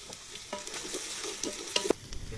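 Chopped onions sizzle and fry in hot oil with black cardamom, cloves, ginger and garlic for mutton nihari, a steady close crackle with stirring scrapes, no voices.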